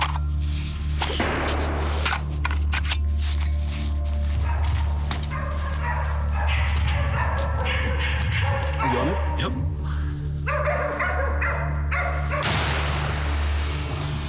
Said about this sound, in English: We still got dogs barking.